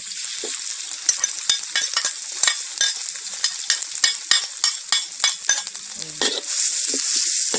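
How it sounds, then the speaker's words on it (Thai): Thai curry paste is stir-fried in a pan for a spicy clam dish. A loud, close sizzle runs under a quick series of spatula scrapes and taps, with no talking. "ผัดเครื่องแกงมันหอมเนาะค่ะ"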